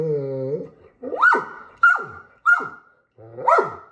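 A dog gives a run of four or five loud, close, drawn-out vocal barks that rise and fall in pitch, mixed with whiny, whimpering tones, spaced about half a second apart.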